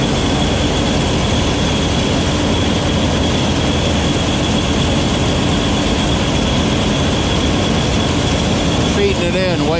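A tractor PTO-powered corn conveyor runs at a farm machinery show, a loud, constant mechanical roar with rattling and a steady whine, continuous throughout with no pauses.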